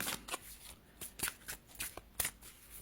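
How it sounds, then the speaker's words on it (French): A deck of tarot cards is riffled and shuffled close by in quick, crisp bursts of flicking. The bursts repeat in an uneven rhythm with short pauses between them. "je brasse le premier jeu"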